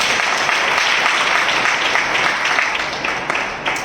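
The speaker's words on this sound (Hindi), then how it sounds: "हम जोरदार तालियों से उनका स्वागत करें" Worship assembly audience giving loud, sustained applause to welcome listeners, a thick continuous roar of hand claps with small bursts and a slight easing near the end.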